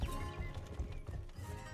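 Horse hooves clip-clop in the medieval open-world game Rustler, a quick run of close, rhythmic hoofbeats, with a brief whinny-like tone and no talk over it.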